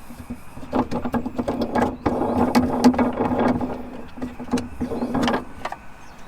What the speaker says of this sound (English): to remove the toolkit, just lift your jack, place it out of the way, and unscrew this guy